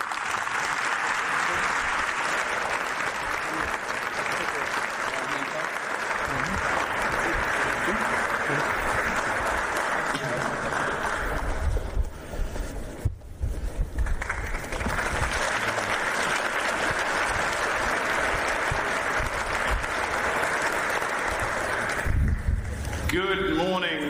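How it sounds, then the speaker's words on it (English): Sustained applause from a large crowd fills the room, dipping briefly midway before swelling again, with some voices mixed in. "I really promised him a rousing applause from everyone here"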